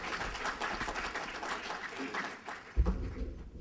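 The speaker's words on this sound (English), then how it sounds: "a loud applause for Dr." Audience applauding a guest, Dr. Omar C., at a fashion collection opening, a moderately faint round of clapping from a crowd, continuing steadily with a brief thump near the end.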